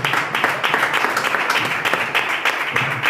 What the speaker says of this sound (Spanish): Vamos, un aplauso fuerte al Señor